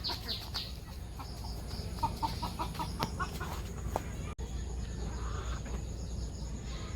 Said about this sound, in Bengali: এই কয়টা হচ্ছে বড় মুরগি আরেকটা আমাদের বাচ্চা মুরগি রয়েছে